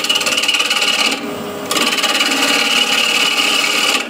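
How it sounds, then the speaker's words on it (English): A ball gouge cuts across the top of a wooden bowl spinning on a wood lathe, a continuous close scraping rasp that breaks off briefly and then resumes steadily. "Slowly turn on the lathe, and with the ball gouge I'll just true up the top here."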